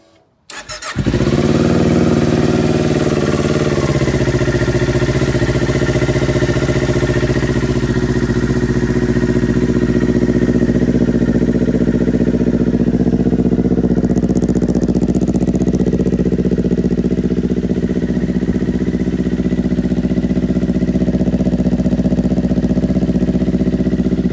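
A 2019 Kawasaki Ninja 400 race bike with no key cranks briefly and fires up on a chilly day, then settles into a steady, loud, close idle that holds for over twenty seconds without any talk.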